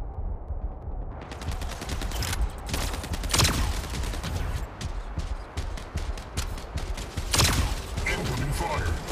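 Gunfire from mechs in the video game Mech Arena, rapid automatic bursts rattling continuously with heavier sharp impacts standing out twice, loud and close, with a voice speaking over the action.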